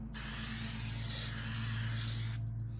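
Aerosol brake cleaner sprayed onto a rear brake rotor of a 2018 Ford EcoSport, one steady close hiss lasting over two seconds before cutting off, with a low hum underneath.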